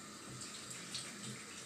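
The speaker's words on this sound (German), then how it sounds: "ich werde jetzt einfach die Haare so ein bisschen befeuchten" Steady running water from a tap while hair is dampened before applying a light pomade, a soft continuous hiss and splash at low level, close by, with no talking.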